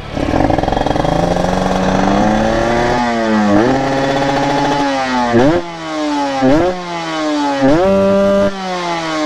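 A tuned daily-use motorcycle with a velocity stack and Boba Racing coil booster revs repeatedly, its engine note climbing sharply in several quick throttle blips and dropping back, loud and close with no talk.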